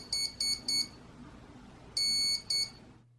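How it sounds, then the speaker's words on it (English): An electronic speed controller in a fixed-wing RC plane sounds its startup tones: three short, high beeps, a pause, then a longer beep and one more short beep, clear and alone. "When you plug it in, it'll make a series of beeps,"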